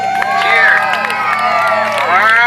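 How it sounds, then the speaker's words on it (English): A large group of schoolchildren cheering and shouting loudly at a school slime challenge event, with overlapping high voices and whoops forming a continuous roar close by. "Cheer."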